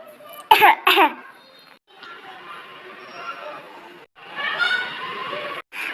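A woman gives two quick, sharp coughs near the start, then a low murmur of background sound continues.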